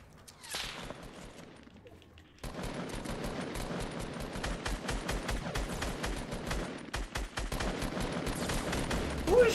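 Dense, rapid gunfire from a Fortnite match, starting sparse then erupting into a sustained barrage of overlapping shots and automatic bursts, loud and close, with no talking.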